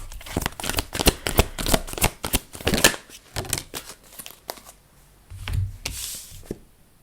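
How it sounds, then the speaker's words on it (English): Tarot cards handled and shuffled by hand, with a run of quick crisp riffling and slapping bursts up close, followed by a few softer shuffles and a rustle. "I'm just grabbing some of the cards."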